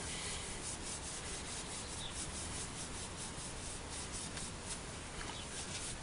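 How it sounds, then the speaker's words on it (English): A Scotch-Brite pad rubs steadily across a knife handle to open up the grain, making a continuous soft abrasive scrubbing with no pauses from start to finish. "I use a Scotch-Brite to open the grain up to give you a little bit of grip when you hold it"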